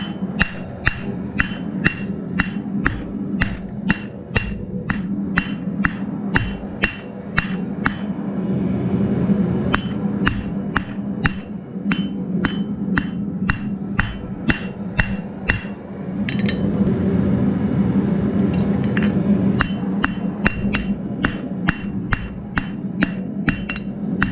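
A blacksmith hammers steel to draw out a finial, a long run of sharp ringing metal strikes at a steady, fairly fast rhythm, close and loud over a constant low hum.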